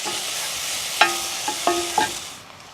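Grated fresh ginger sizzles in a hot pan with a steady hiss, broken by a few sharp utensil clinks against the pan near the middle; no voices.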